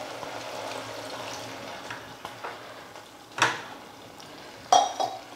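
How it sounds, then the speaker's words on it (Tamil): Cooking sounds from a pot of amaranth greens as a little water goes in: quiet stirring and utensil scrapes, then two sharp clinks of a spoon or ladle against the pot, with no talking. "அதனால் கொஞ்சமாக தண்ணி சேர்த்துக்கலாம்."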